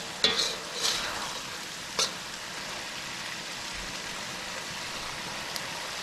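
Chicken chow mein with mixed vegetables sizzling and frying in a pan, a steady hiss with a few scraping stirs near the start, close and continuous, no talking.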